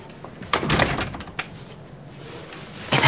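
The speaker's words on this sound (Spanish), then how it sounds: "Pasa y cierra la puerta." A door swings shut in a room, giving a cluster of wooden knocks and a thud followed by a smaller knock. Quiet room tone follows.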